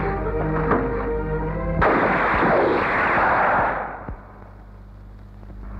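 A sharp gunshot in a Hindi action film bursts out over a steady tonal background, followed by a loud rushing blast that slowly fades away.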